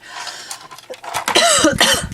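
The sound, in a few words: cough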